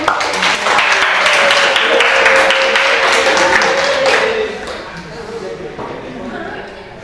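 Students in a classroom applaud their teacher at the end of a lesson: a few seconds of lively, close clapping from a small group that then fades under a low background murmur.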